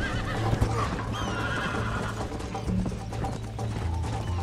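Horse in the Red Dead Redemption video game neighing loudly near the start, with steady galloping hoofbeats running under dense game ambience throughout.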